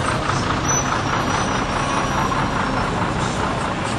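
A packed bus rumbles past on a city street, heard from inside a taxi, its engine a steady, loud, broadband roar that continues unbroken.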